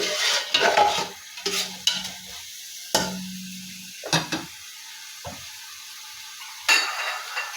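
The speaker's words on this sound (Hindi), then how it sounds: "मसालों को इसमें अच्छी तरह से भूनेंगे।" Whole cloves, black peppercorns and bay leaves frying in a pan, with repeated stirring scrapes and clinks of a utensil against the pan and a light sizzle in between, heard up close with no talk.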